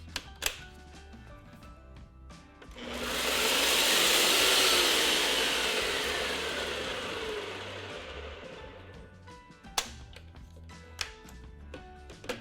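Oats ground in a blender or food processor: a loud, rough motor whir starts abruptly, holds strong for several seconds, then slowly fades as the grinding eases, with a few sharp clicks before and after.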